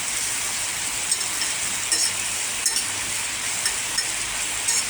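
Mixed vegetables and potato fry in oil in a pan, a continuous soft crackling hiss with occasional small pops, close and steady, no voices.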